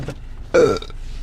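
A single loud burp, close and abrupt, lasting about a quarter second over a faint background hum.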